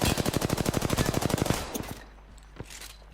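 Rapid automatic gunfire in a battle royale video game, a fast burst of evenly spaced loud shots for about a second and a half, then fading to a few scattered distant pops and a quiet tail.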